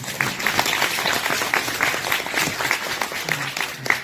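An audience at a book concert for a poet claps steadily, dense applause filling the hall with a constant, fairly loud patter from start to finish.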